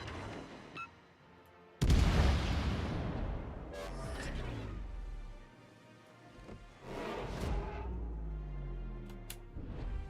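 Battleship Satsuma fires its main guns in the naval game World of Warships, with a sudden loud boom followed by rolling rumbles and a second, softer salvo later, all fairly close with some faint talk.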